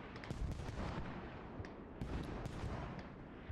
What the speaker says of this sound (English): Hash kills Missamat with a pistol.